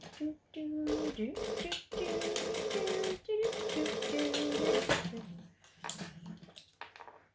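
A sewing machine stitches fabric for a wristlet, a steady close mechanical run broken by short pauses, with a voice speaking over parts of it.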